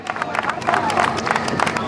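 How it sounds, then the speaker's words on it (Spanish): Audience at a Feria de Abril performance by a peña bursts into a round of dense clapping for a performer with a broom guitar, mixed with crowd chatter and murmuring voices. "Ese fuerte aplauso para él."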